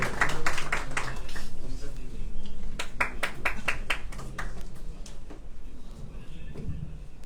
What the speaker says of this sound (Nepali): एकपटक जोरदार ताली बजाएर स्वागत गरिदिनु होला सन्तोष चौहानज्यूलाई